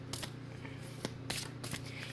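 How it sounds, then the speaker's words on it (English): A deck of tarot cards is shuffled close by, quiet crisp riffling bursts and sharp flicks at irregular intervals over a faint low hum. "now I'm going to shuffle this deck"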